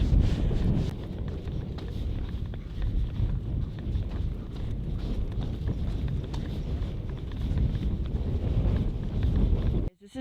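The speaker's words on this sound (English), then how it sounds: "it is definitely blustery out here" Strong winter wind roars at an ice fall, a loud, continuous buffeting rush across the microphone that hardly lets up before cutting off abruptly at the end.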